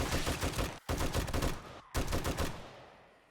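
Machine gun fire in the video game 7 Days To Die, with two loud sustained bursts of rapid shots broken by short pauses, then a final burst that trails off into fading echo.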